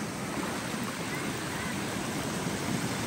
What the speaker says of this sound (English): So this is the waterfall, as you can see.